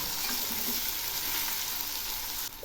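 Cauliflower frying in a pan gives a steady, close sizzle that holds evenly throughout, with no voices over it.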